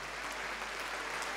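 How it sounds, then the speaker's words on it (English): Audience applause at the 2017 Newcombe Medal awards for doubles player John Peers, a soft, even roar of many hands clapping heard at a distance without pause. "give him a round of applause"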